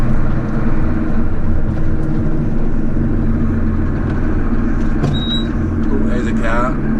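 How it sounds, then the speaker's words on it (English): A car passes on a snow-covered side road that has not been gritted, its engine a steady rumble under wind noise and a nearby voice talking. "Oh, there's a car."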